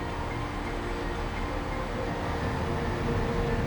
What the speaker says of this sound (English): a train loaded with containers runs between the TMA-terminal in the port of Amsterdam and a diversity of terminals in the port of Rotterdam